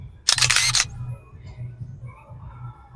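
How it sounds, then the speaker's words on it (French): Camera shutter firing once in a short burst of crisp clicks near the start, followed by faint outdoor background hum and no voices. "je voulais prendre une photo de comme ça et découper tout"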